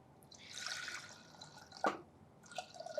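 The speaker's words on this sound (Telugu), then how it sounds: "దీంట్లో కొన్ని వాటర్ వేసుకోండి." Water is poured into soaked ragi flour while making ragi java, heard as faint, close trickling and a brief splashy pour in the middle, with quiet dribbles near the end.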